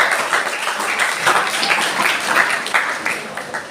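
Applause from a school audience at an AI program event, a steady crowd of clapping that holds moderately loud throughout with a few louder bursts and some voices mixed in.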